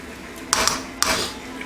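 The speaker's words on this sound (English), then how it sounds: "Give her a little stir just so it doesn't boil over." Homebrew IPA wort stirred in a boil kettle, giving two or three close metallic clanks of a spoon against the pot with brief scraping between them.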